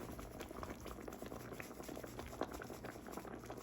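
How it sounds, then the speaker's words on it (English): Liver and onion gravy simmering in a pan, a steady low bubbling and popping that runs evenly throughout, fairly quiet and close. "We're going to cover it and let it simmer down"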